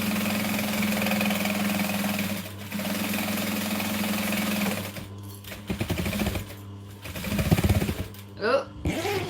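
A sewing machine backstitches the seam of a business bag. It hums at a steady speed for about five seconds, then stops, and a voice speaks over the quieter pauses.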